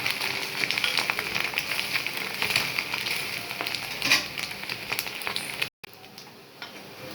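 A dosa with two eggs poured on it sizzles and crackles steadily on a hot pan, loud and close, with a brief dropout near the end before the frying resumes.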